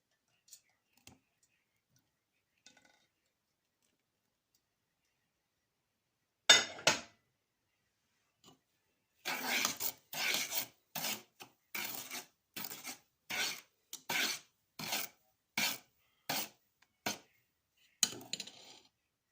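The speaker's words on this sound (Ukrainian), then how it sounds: "Тепер виливаємо рідину зі спаленого цукру та добре розмішуємо." Honey cake batter being stirred by hand after burnt-sugar liquid is poured in, giving about ten rhythmic scraping strokes in a steady beat, close and fairly quiet, with no talking.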